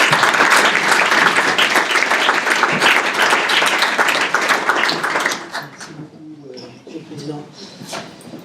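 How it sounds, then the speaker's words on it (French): A live audience at the 2016 Diderot prize ceremony applauds minister Thierry Mandon, a loud, dense burst of clapping that thins and fades after about five seconds, leaving scattered claps and quieter room sound. "Et donc, nous demandons d'applaudir M."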